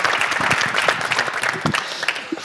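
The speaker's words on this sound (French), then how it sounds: "Je pense qu'on peut applaudir Mathis parce que, pour les vacances" Studio audience at a French media event applauding, a steady dense patter of clapping from a nearby crowd that stays loud through the whole stretch.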